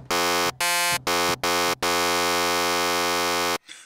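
A bright, buzzy psytrance synthesizer lead on an Access Virus A, wave shape 41, plays a few short staccato notes, then holds one long sustained tone before cutting off; loud and alone.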